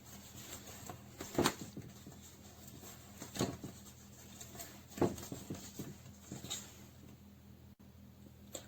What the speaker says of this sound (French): On marque ses plis.